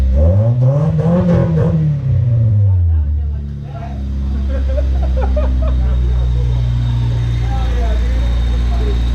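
Rebuilt Honda D16Z6 engine, previously blown, revving hard up and back down in a rising and falling sweep, then settling into a loud steady idle, with a little smoke and people talking nearby.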